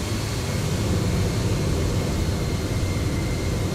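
Steady, loud jet engine roar of a FlightFactor 767-300 airliner simulated in X-Plane 12, a continuous broadband drone that holds unchanged throughout with no talk over it.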